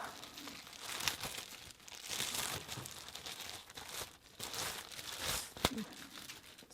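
Plastic wrapping around a shirt is crinkled and pulled open close up, with bursts of crackling and rustling that rise and fall in quick handling motions and a sharp crunch near the end.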